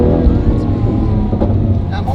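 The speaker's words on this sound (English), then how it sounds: "So I'm getting off the gas, then back in it when I shift." Single-clutch Lamborghini accelerating and shifting gears on a drive around the block, a close, rough engine drone that briefly dips between shifts, with wind noise.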